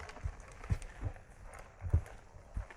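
A horse walking forward during groundwork training, its hooves striking the ground in a slow, uneven series of soft, low thuds at close range, with no talking.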